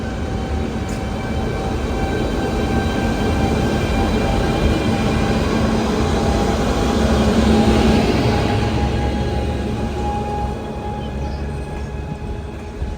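A Tambaram–Mangaluru Express running behind a non-HOG locomotive, heard as a steady loud rumble and roar of the moving train with faint tonal hums, swelling slightly midway before easing off.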